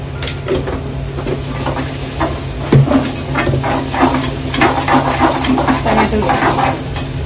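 Onion cooking with salt in a pan for stuffed brinjal, a loud close sizzle with clattering utensil scrapes and clinks, and someone talking faintly over it at times.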